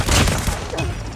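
Dense burst of gunfire impacts in a Call of Duty Mobile 10 v 10 match, loud rattling shots with low thuds packed into about a second, no talk.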